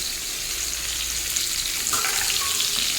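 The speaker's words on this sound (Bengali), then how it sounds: "কুমড়ো দিয়েও ভালোভাবে ভাজতে থাকবো।" Cut pumpkin frying in oil with potato and pointed gourd, a loud continuous sizzle and hiss with brief stirring scrapes partway through.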